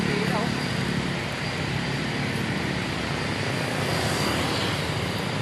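A propeller or jet airplane passes over Dolomite Beach on Manila Bay, a broad steady roar of engine noise that fills the scene continuously, with people's voices mixed in over the drone.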